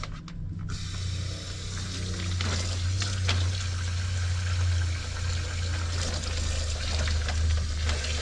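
Cold water from a van's water pump runs into a tub, a steady rushing splash over a constant low mechanical pump hum, continuous for about eight seconds.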